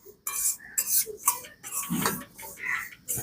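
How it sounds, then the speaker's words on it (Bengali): Gujiya filling being stirred and dry-roasted in a pan, heard as close, irregular scrapes and light metallic clinks of a spoon against the pan in short bursts, with no talk. "এবারে সবকিছু খুব ভালো করে একসাথে নাড়াচাড়া করে একটু ভাজা ভাজা করে নেব"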